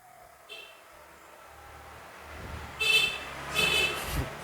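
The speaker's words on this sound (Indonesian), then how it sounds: "Kok ya pakai klakson ya?" Two short car horn honks, fairly quiet, come a moment apart over a low hum of traffic and engine noise, with voices talking faintly nearby.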